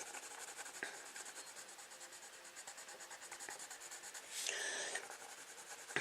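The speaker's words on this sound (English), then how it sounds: "When you color I'm using my Prisma colored pencils" Prisma colored pencils colouring on paper make a soft, steady scratchy rubbing, with repeated strokes in a quiet room and a brief, brighter burst of scribbling near the end.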